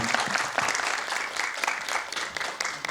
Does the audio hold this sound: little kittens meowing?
no